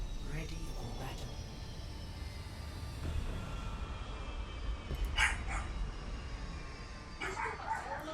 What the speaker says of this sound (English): I think the dogs are really noisy today.